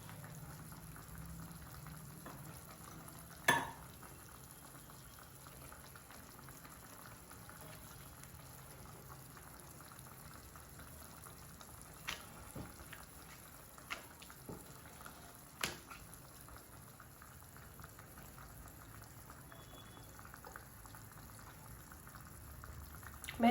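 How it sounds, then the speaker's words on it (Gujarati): Vegetable pockets steaming over boiling water on a gas stove, a faint steady bubbling hiss throughout with a few soft clicks and knocks. "5 મિનિટથી 7 મિનિટ સુધી આપણે એને બફાઈ દઈશું."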